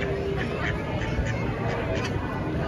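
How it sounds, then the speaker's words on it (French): Several ducks at Disneyland Paris quack in short, repeated bursts over steady, busy outdoor background noise, with people's voices mixed in around them. "Extraordinaire les canards assortis."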